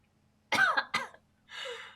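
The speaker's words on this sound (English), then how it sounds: "I'm gonna try to cut all the coughs anyway" A person coughs twice in quick succession, close and fairly loud, followed by a softer breathy throat-clearing sound.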